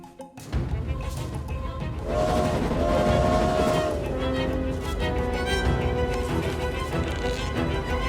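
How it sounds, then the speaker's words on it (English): Train scene from a short film: a loud, steady rail rumble with rattling carriages fills the whole stretch, and a sustained horn-like tone sounds for a couple of seconds near the start. "that was a train scene from the short film Caminando's Amigos"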